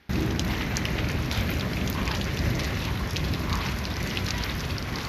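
Heavy rain pours down steadily in a sudden storm with hail in Domaniç, Turkey, a dense continuous roar of water close by with no talking.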